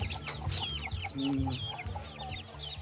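Several chickens cluck and murmur nearby in short, overlapping calls, one giving a longer drawn-out note, over a steady low hum.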